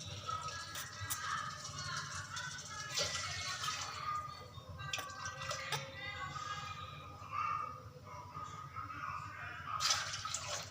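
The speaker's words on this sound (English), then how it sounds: "Now I am adding the water." Water being poured into a pot of soaked rice for prawn biryani, three glasses for one and a half glasses of rice, a steady splashing pour with kitchen clatter throughout, and someone talking over it.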